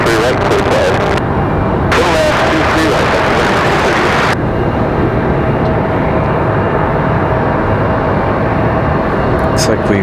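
Aircraft engine spooling up at Raleigh-Durham International Airport, a broad continuous roar with rising whine, loud and steady throughout, with a voice talking over it.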